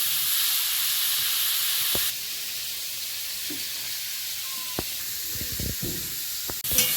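Small chuno fish frying in a pan for a home-cooked Bengali meal give a steady, loud broadband sizzle that drops a notch partway through, with a few faint clinks of a utensil.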